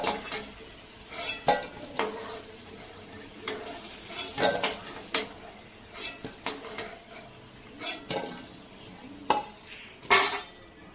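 Small potatoes fried red in hot oil are lifted from a pan, giving scattered clinks and scrapes of utensil against metal about a dozen times over a low, faint sizzle, with no talking.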